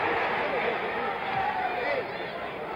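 A boxing arena crowd roars and yells in a steady, dense wash of voices, close and loud, while a commentator talks over it throughout.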